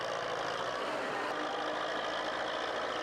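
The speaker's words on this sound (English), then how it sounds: "Equipped with a powerful engine, it drags massive logs across a slippery dirt road with ease." A Belarus tractor's engine drones steadily and loudly as it drags massive logs along a slippery dirt road, a continuous close rumble with no voices.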